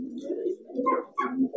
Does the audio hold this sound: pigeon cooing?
yes